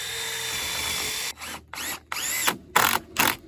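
A power drill driving a 3.5-inch screw into a wooden deer blind ladder step, several short whirring bursts with brief pauses between them, close and loud over faint outdoor background.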